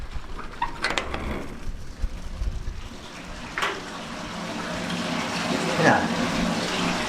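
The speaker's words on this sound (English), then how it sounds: "there's the water pissing out" Water gushing out of plumbing in an old van, a continuous splashing pour under occasional background noise, with people speaking faintly.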